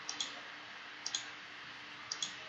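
A computer mouse clicks while a hedge is drawn in landscape CAD software, close crisp double clicks repeating about once a second, three pairs over a faint hiss, no talking.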